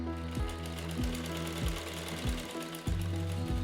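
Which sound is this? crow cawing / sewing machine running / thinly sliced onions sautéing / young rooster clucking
sewing machine running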